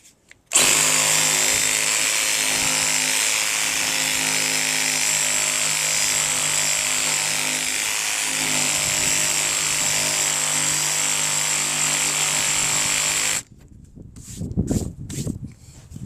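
A Sawzall reciprocating saw cuts Trex composite decking at an angle, a loud continuous buzzing drone held for about thirteen seconds before it stops, followed by a few faint knocks and handling sounds.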